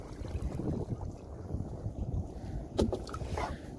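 A boat moving across open water, heard as a steady low churning wash with wind buffeting the microphone and a brief louder splash-like surge midway.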